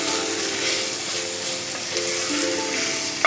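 Steady, dense sizzling of chopped tomatoes frying in hot oil in a Chettinad chicken curry gravy, close and continuous with faint stirring noises.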